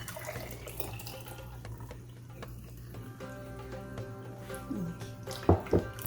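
Water from a rinse of mint tea leaves for Moroccan tea is poured off and drained, a soft trickling with a few drips and clinks, quiet at first and becoming louder and splashier near the end.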